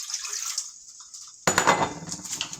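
Water from a tap running into a pot for couscous, a thin steady stream that turns into a louder, fuller splashing rush partway through, close by.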